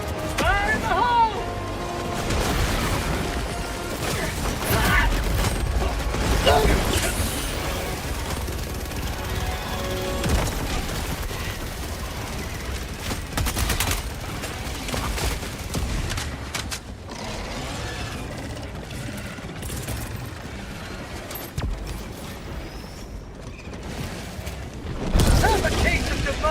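Explosions and gunfire from a Helldivers 2 battle, with repeated booms and bursts of shots layered over mechanical clatter and in-game voice lines, loud throughout with a heavy blast near the end.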